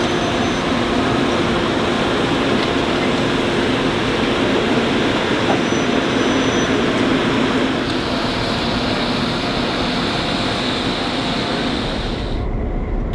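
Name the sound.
train with two engines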